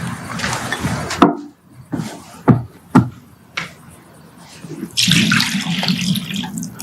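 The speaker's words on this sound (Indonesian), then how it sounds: "Lalu ia menuang air ke dalam sebuah baskom" Water splashes into a basin in loud pours and bursts, with several sharp spills and drips between them, close by and without speech.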